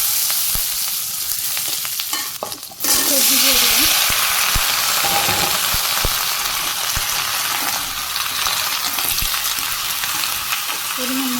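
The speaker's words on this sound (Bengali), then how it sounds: "আমি তেল দিয়ে জিরে মেথি মাসকলের ডাল কাঁচা মরিচ নেড়ে করে দিই" Cumin, fenugreek, urad dal and green chilli fry in hot oil in a Bangladeshi village kitchen. A loud, steady sizzle and hiss flares up suddenly and carries on with a few stirring clinks.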